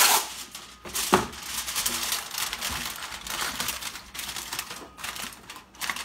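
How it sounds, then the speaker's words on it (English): Aluminium foil wrap pressed and crinkled over a baking dish of oven-baked moin moin, loud crackling and crumpling close up in irregular bursts, with no voices. "Then you cover it with foil"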